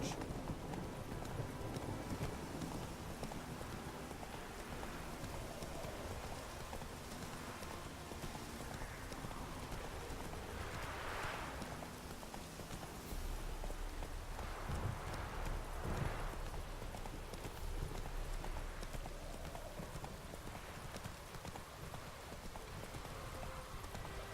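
Horse hooves clip-clop in the video game The Witcher 3, a steady rhythmic trot heard close over light rain and ambient outdoor noise, with a faint voice at times.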